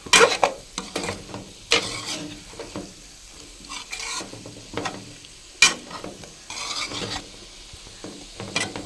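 Raw banana masala curry sizzles in a pan as a spoon stirs and scrapes through it in irregular, close strokes.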